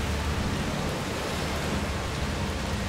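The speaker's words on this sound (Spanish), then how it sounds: "La lluvia empeora. Solo vaya es tormenta, tormenta." Heavy rain and storm noise in the video game A Plague Tale: Requiem, a constant broadband downpour wash with no break and no talk over it.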